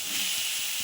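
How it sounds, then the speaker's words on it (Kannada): Finely chopped tomatoes hitting a hot pan of frying capsicum, a steady close hiss and sizzle throughout a brief moment. "ಚಿಕ್ಕದಾಗಿ ಕಟ್ ಮಾಡ್ಕೊಂಡಿರೋ ಅಂತ ಟೊಮೆಟೊ ಹಾಕ್ತಾ ಇದ್ದೀನಿ"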